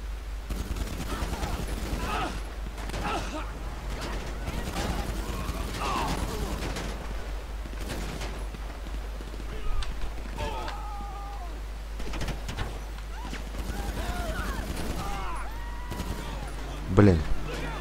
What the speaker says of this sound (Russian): вот сейчас мы начнем их атаковать, и они будут довольно мощным оружием нас стрелять